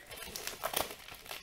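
An envelope, a parcel from Japan with Pokémon items, is opened with scissors, giving quiet, close paper crinkles and rustles in short irregular bursts, with no talking.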